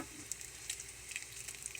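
Bacon sizzling steadily in a frying pan, a quiet, even crackle with small pops and spits scattered throughout, close by and alone with no voices.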